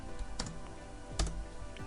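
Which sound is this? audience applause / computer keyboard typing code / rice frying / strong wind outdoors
computer keyboard typing code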